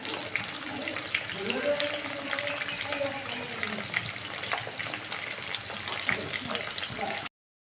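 Small onions and bay leaves fry in oil with a dense, continuous sizzle close by, while a voice speaks briefly early on.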